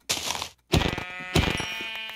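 Sheep in the Minecraft video game bleat in three loud, close bursts: a rough, noisy first call, a short pause, then two longer, tonal bleats back to back.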